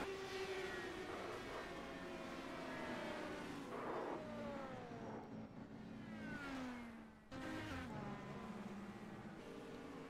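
Race cars battling closely on an oval track during a night race, engines droning steadily with rising and falling pitch sweeps as they pass, a brief dip then the roar resuming.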